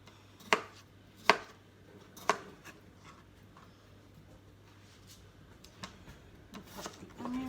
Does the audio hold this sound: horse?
no